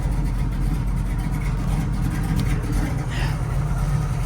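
A 1969 Chevrolet Camaro SS350 with a four-speed idles steady around 1,000 RPM, a continuous close low rumble holding even without changes in pace.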